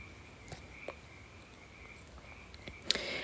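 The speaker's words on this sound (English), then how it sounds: "the frogs are chirping" Frogs chirping in the evening outdoors, a faint continuous trilling chorus with a few sharper calls and clicks, the loudest burst near the end.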